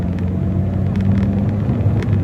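An 8th-generation Honda Civic drives in third gear, its engine a steady low rumble heard from inside the cabin, loud and continuous with no talk.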